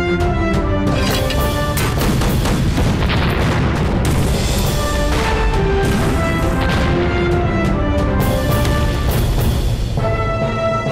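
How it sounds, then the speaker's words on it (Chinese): Artillery bombardment in a war drama battle scene, with a dense, loud barrage of booming blasts and crashes layered over dramatic music from start to finish. "轰！ 给我狠狠的轰！"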